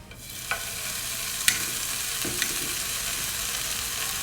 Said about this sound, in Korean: 다음으로 베이컨을 구워줄 건데요